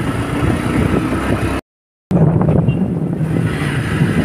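Bajaj Pulsar NS125 motorcycle engine running close by, a steady buzzing idle broken by a short silent gap, then resuming with a rougher rising rev.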